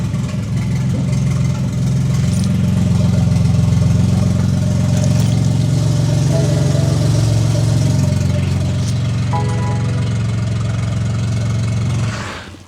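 A BMW G80 M3 Competition, rebuilt after a wreck, idles loud and close with its exhaust disconnected. The deep, raw rumble holds steady and fades slightly toward the end.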